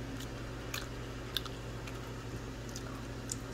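Soft chili food chewed close to the microphone, quiet moist squishy bites and faint crunches in an irregular rhythm over a low background hum.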